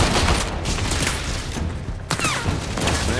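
Dense, sustained gunfire fills a hectic firefight while sliding and shooting in the sci-fi shooter Warframe, with rapid overlapping shots and booms running continuously throughout.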